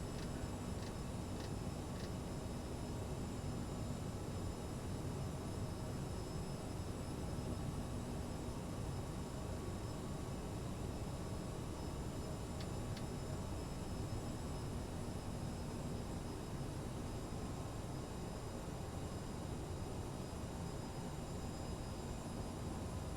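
Steady airplane engine drone inside a flight simulator cockpit on a flight from Chicago O'Hare to Memphis, a constant low hum holding at an even level, with a few faint ticks near the start and middle.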